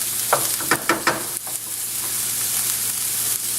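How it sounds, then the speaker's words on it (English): Onions sauté in a pan on a medium-high stove, giving a continuous close frying crackle broken early by several sharp scraping stirs, then settling into an even sizzle. "And you cook the onions, saute them until they're soft."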